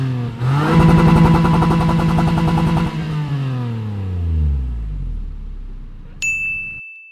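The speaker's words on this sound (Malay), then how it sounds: "Selepas tukar muffler, tak tahu brand apa, inilah bunyi dia." Car engine fitted with an aftermarket muffler revs hard for a few seconds, then the note falls away as it settles back toward idle, loud and close, with a brief metallic ding near the end.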